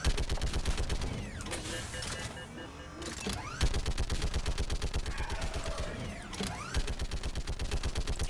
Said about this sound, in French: Je déteste cette mitrailleuse, comment elle fait du bruit.